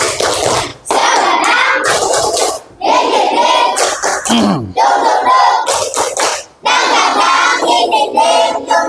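Schoolchildren in a primary school classroom clap their hands together in loud, sustained bursts with short pauses between them, mixed with children's voices and a teacher talking.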